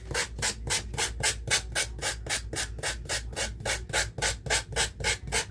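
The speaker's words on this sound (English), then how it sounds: "So I'm just taking my little gator sander here and just shaving it off." A small handheld gator sander rubs hard against a craft piece's edge, giving a fast, even rhythm of loud rasping strokes, close and continuous with no talk.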